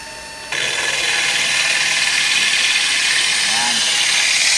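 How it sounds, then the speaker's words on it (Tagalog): A power drill fitted with a glass hole saw whines at a steady high pitch after a brief quieter start, running continuously without pause. "umaandar na pala yung barena para bago mo isalpak"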